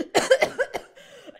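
A woman coughs several times in a quick burst, fairly close and loud, followed by a softer rasping breath.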